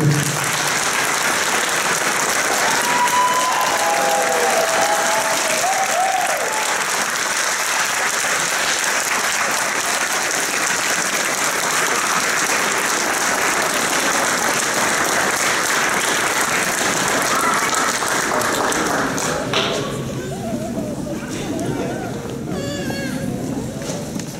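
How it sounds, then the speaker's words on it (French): Sustained, loud applause from a large audience fills a graduation ceremony hall for graduates of a college campus, steady clapping throughout, with some cheers and a voice emerging near the end. "Maintenant, mesdames et messieurs, applaudissons chaleureusement tous nos diplômés."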